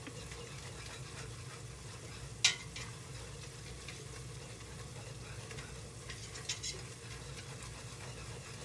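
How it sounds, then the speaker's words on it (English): A whisk stirs thickening loaded potato soup in a pot, producing a steady soft scraping and swishing with a few small clinks, fairly quiet and continuous. "Give her a whisk around."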